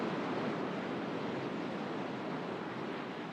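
Ocean water carrying sand washing over rocks, a steady broadband rush of surf with no distinct breaks, continuous and fairly loud with no voices.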